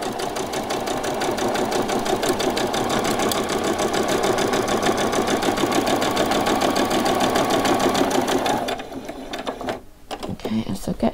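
A sewing machine runs continuously as it stitches around the edge of a frilled fabric top, a rapid mechanical chatter that holds for several seconds and then stops with a few quieter clicks.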